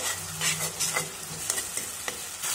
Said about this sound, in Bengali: এখন এই আদা রসুন থেতো করাটা দিয়ে দেবো এর মধ্যে।